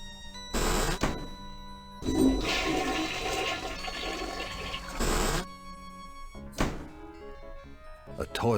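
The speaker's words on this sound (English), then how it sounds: "So now we gotta flush 3 times." A toilet in the video game I Have No Mouth And I Must Scream flushed repeatedly, several loud rushing bursts with heavy thunks and gurgling refills between them, close and clear.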